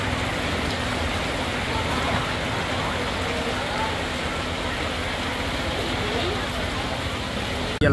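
Light rain falling steadily over Chau Phu B market in Chau Doc on a morning, a constant even hiss throughout with a faint low hum beneath and no voices.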